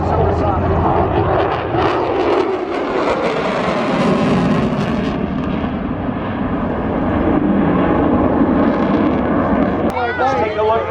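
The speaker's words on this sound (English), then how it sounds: "Sound of the afterburner's exhaust going supersonic." A close, continuous jet afterburner roar, its exhaust going supersonic at EAA Oshkosh, rumbles and crackles steadily, loud and unbroken, with a brief whirring change near the end.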